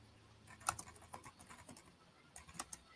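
Someone types details into a computer keyboard, giving a short, faint burst of irregular key clicks with a few sharper taps and no talking.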